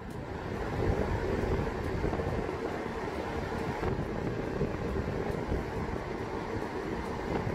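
A Kobalt 24V job site fan running at a higher speed gives a steady, broad rush of blowing air, loud and close, unbroken, with no speech.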